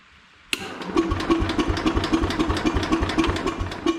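A Kohler engine on a Minneapolis Moline 114 Hydro garden tractor fires up abruptly and keeps running, a loud, close, steady chugging idle with rhythmic pulses and no talk.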